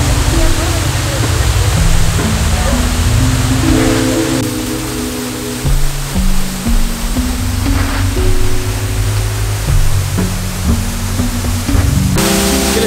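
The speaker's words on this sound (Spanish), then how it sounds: "Ya se puede escuchar el agua, cómo fluye." A waterfall near Ibarra, Ecuador, pours in a steady, loud broadband rush of flowing water that fills the whole clip, with low tonal sounds running underneath.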